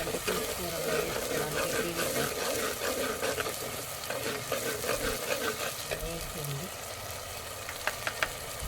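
Onion, ginger and garlic paste sizzling and being stirred in a pan for a village-style partridge curry, a continuous crackling fry with scraping stir sounds throughout, close up and alone.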